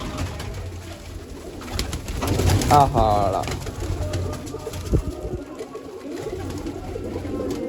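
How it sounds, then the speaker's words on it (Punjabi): Pigeon coos rise briefly amid outdoor noise and a short spoken word, with soft bird calls in the background. "ਆਹ ਲਾ ਆਪਾਂ ਪਹਿਲਾਂ ਕਬੂਤਰ ਬੰਨ ਲੈਨੇ ਆ ਛਤਰੀ ਦੇ"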